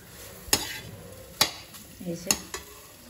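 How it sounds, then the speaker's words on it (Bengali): Soya chunks being stir-fried in a pan, a soft sizzle punctuated by about four sharp scrapes and clinks of a utensil against the pan at irregular intervals. "এই সয়াবিনগুলোকে, সোয়া চাংসগুলোকে ভালো করে কষিয়ে নিলাম আগে"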